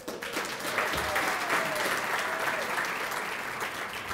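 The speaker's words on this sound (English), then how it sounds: "How about a big round of applause for Ursula Shepherd?" Sustained applause from an audience at a 2015 winter awards ceremony, a dense, even wash of clapping heard from a moderate distance that holds steady throughout.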